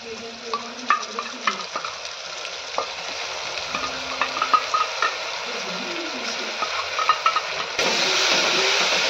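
Ginger garlic paste frying in oil with whole spices, a close sizzle broken by scraping stirs and clinks, swelling into a louder, fuller hiss near the end.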